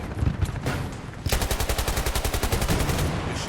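Rapid automatic gunfire in a first-person shooter game, a fast, even burst of loud shots lasting about two seconds after a brief opening sputter of fire.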